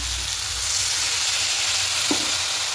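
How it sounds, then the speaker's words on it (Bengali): Ginger and green chili paste sautéing in hot oil in a pan for a vegetarian khichuri, a loud continuous hiss and sizzle with a faint scrape of stirring. "সব কিছু খুব ভালো করে কষিয়ে দেবে"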